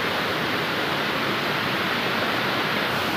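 Water pours and splashes steadily at a waterfall where people go to bathe, a continuous broadband roar filling the whole moment, loud and close with no voices over it.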